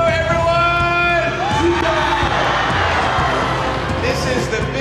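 A stadium crowd of 35,000 at a concert in Vietnam roars and cheers loudly and continuously while an amplified voice speaks over a PA on top of it.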